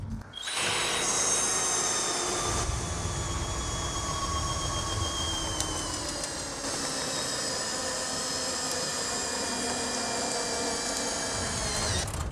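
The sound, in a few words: Skil 3080 cordless screwdriver driving screws and a bolt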